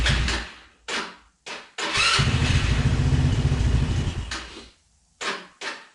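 A quad ATV with a drained battery and low fuel is started: short cranking bursts, then the engine catches and runs loudly for a few seconds before cutting out, followed by two more brief cranking attempts.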